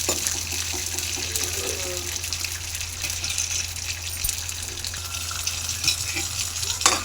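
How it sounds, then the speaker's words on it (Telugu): Peanuts frying fast in a pan for chutney, a dense, loud crackling sizzle that runs steadily throughout without talk. "చూడండి, పల్లీలు అనేది ఇలా త్వరగా వేయించుకోవాలి."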